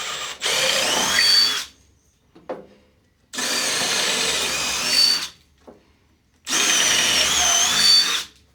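A power drill bores into a sailboat in three long, loud bursts of whining spin, separated by short pauses with small clunks and handling noises.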